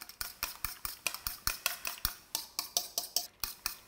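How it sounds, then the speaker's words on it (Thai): Eggs are beaten in a bowl with a utensil, making rapid, evenly spaced clinking taps about four per second, close and crisp, without talk. "ตีไข่อีก"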